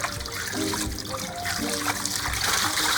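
Water runs steadily from a tap, a continuous close splashing rush as halved potatoes are rinsed beneath it.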